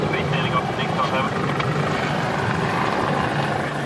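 Rescue helicopter hovering over rough sea off the coast near Auckland, its steady rotor and engine roar loud and continuous throughout, with a radio voice talking over it.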